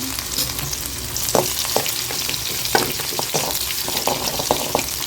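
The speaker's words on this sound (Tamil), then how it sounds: "பூண்டு கொஞ்சம் தவக்கட்டும் பாருங்கள் பூண்டு தவந்துருச்சுங்க" Garlic and dried red chilies fry in oil for a village-style okra tamarind curry, giving a continuous close sizzle punctuated by sharp clicks from a spoon stirring the pan.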